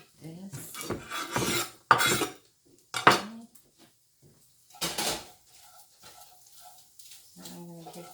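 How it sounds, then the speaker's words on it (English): Ground beef scraped and stirred in a pan, with several loud metallic utensil clatters and rasping scrapes in bursts, separated by quieter pauses. "just want to kind of mix that flavor throughout with the ground beef that I have in the pan"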